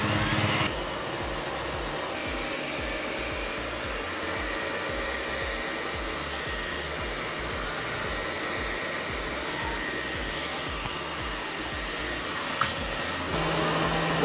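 An Ecovacs Deebot N8+ robot vacuum cleaner hums with a steady, fairly quiet whirring drone, continuous throughout with a faint click near the end.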